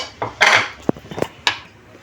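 Metal pots and a tagine clatter and knock as ingredients go in for a beef tagine, with a few sharp clinks and thuds in quick succession, close and fairly loud.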